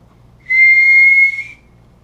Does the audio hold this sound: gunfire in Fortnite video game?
no